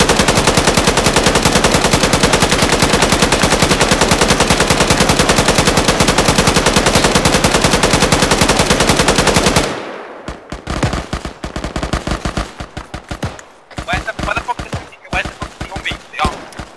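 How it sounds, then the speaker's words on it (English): Loud, dense automatic gunfire in an Arma 3 multiplayer battle, a continuous rattling roar that breaks into sharp separate bursts and single shots, some nearer and some more distant, with faint voices at times. "Now they're shooting back."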